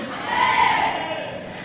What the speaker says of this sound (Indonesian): Bersorak-sorai, tepuk tangan dulu.